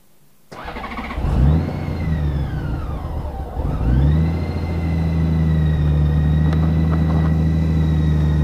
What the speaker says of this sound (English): This is a test close with the engine running.